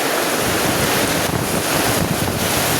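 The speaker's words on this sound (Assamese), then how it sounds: "বতাহ বৰষুণ ধুমুহা যো আমাৰ ঘৰত যো" Storm wind roaring with rain around a house during a heavy storm, a loud, continuous broadband rush with gusty swells and no voices.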